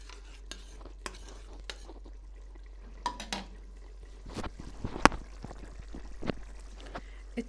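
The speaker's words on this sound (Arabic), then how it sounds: "تقليبة بس ايه سريعة خفيفة كده، تتأكدي ان كل المكونات امتزجت مع بعض" Quick, light stirring of an eggplant and hot pepper mixture in a pan for a simple Egyptian home-style dish, giving soft scraping and clinking of a utensil against the pan in short irregular bursts at close range, with no talk.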